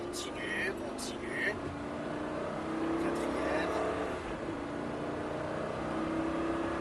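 A car on a race track pulls hard under acceleration, its engine note climbing and holding at close range beneath a French-speaking instructor's steady coaching.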